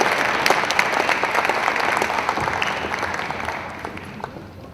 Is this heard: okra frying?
no